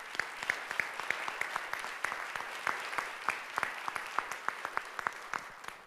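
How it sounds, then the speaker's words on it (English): An opera picnic audience breaks into sustained applause, dense clapping with a few sharper claps standing out, steady throughout and without voices. "Let's give them another round of applause"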